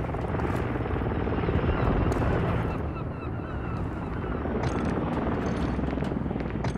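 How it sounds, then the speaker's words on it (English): An Overwatch helicopter arriving in Call of Duty: Modern Warfare 3 multiplayer, a loud continuous rotor thump and engine roar close by, with scattered distant game gunfire mixed in. "Friendly Overwatch helo inbound."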